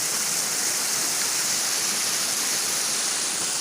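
Water rushes steadily through an irrigation canal as flow resumes after several days of stoppage, a dense, continuous hiss like a small waterfall filling the whole clip without a break.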